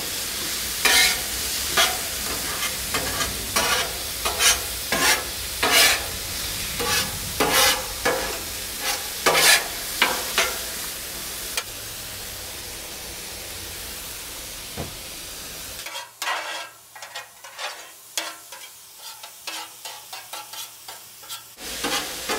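Frozen peas and chicken fried rice sizzle on a hot Blackstone griddle while a spatula scrapes and taps the steel surface in repeated strokes, with steady frying throughout and only quiet sizzling in a pause near the end.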